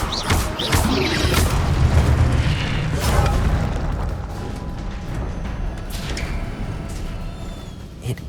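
Casting the Incendio fire spell in the Hogwarts Legacy video game gives a loud, sustained whooshing roar with bursts and crackles, rumbling heavily at first and easing only slightly as it runs.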